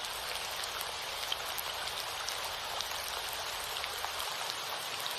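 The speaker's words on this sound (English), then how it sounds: "Rainy days are special." Soft, steady rainfall patters evenly on surfaces, a gentle continuous hiss of drops at moderate distance with no voices.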